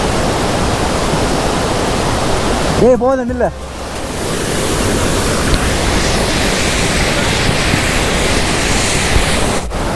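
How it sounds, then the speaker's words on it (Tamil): A powerful waterfall at a hidden falls near Valparai roars as a steady, loud, broad rush of water, close and constant, with someone speaking briefly over it early on. "ஃபால்ஸ் தண்ணி சரியான ஃபோர்ஸ் நண்பா"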